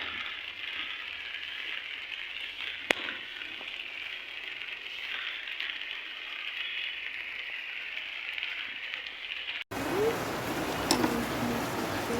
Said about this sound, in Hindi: बारिश, बहुत तेज़ बारिश हो रही है।